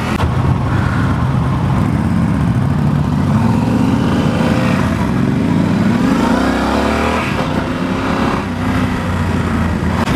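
A 2016 Yamaha Super Tenere XT1200Z motorcycle is ridden with a loud, continuous engine drone that rises and falls with throttle, overlaid by rushing wind noise throughout.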